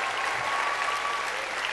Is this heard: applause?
yes